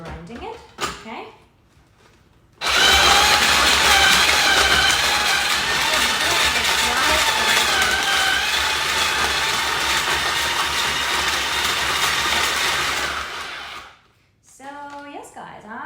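A Hawaiian Shaved Ice S900A snow cone machine grinding ice, a loud steady whirring crunch that runs for about ten seconds and then stops, with brief speech before and after the grinding.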